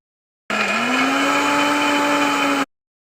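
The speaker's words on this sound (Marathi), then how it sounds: "आता ही भिजवलेली डाळी आपण मिक्सरमधून काढून घेऊ।" A mixer grinder grinding soaked lentils whirs loudly for about two seconds, its motor pitch rising slightly as it spins up, then stops abruptly.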